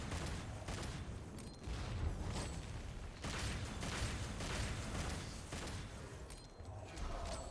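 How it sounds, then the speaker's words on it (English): Quick repeated gunshots aimed at a crystal in Devil May Cry 5 crackle and pop in uneven bursts over a busy, fairly quiet combat din. "I'm just shooting the crystal."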